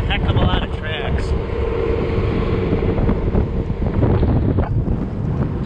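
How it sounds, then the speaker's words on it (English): Strong wind buffets the microphone over frozen Lake Winnebago in the mid-30s, a loud continuous rumbling roar with gusty fluctuations and faint mechanical sounds underneath. "A little bit of a wind, as you would expect."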